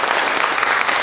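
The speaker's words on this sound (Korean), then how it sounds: "우리 박수로 한번 환영하도록 하겠습니다" Steady applause from a church congregation during a Sunday morning service, dense and even clapping sustained throughout with no voices over it.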